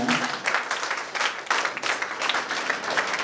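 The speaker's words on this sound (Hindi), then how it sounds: "जोरदार तालियों से हम अपने माननीय कुलपति का स्वागत करें।" Uneven clapping from a crowd welcoming a university vice-chancellor at a tree-planting event, coming in swelling bursts of moderate loudness with a faint voice early on.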